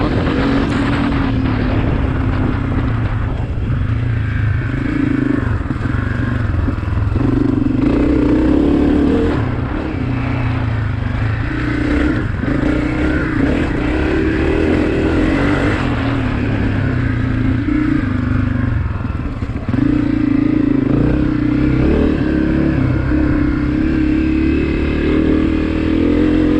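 A 2023 Honda CRF250F dirt bike engine running outdoors, a loud close steady drone that swells and dips with throttle changes, with a brief lull near the end before revving on.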